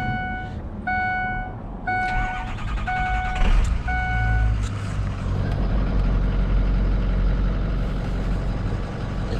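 A 2006 Ford F250 diesel pickup with 99,900 miles cranks and settles into a steady, loud idle, with a repeating electronic chime beeping over the start-up and a deep rumble continuing.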